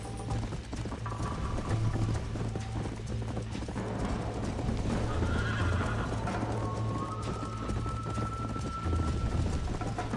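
Horse in the video game Red Dead Redemption, with clip-clopping hooves and a neigh over a low steady background hum, the animal close and fairly prominent.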